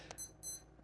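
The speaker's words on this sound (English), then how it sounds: "That's my alarm." An alarm clock goes off at 9 a.m. with two short bursts of rapid, high-pitched electronic beeping, faint and close, with no talking.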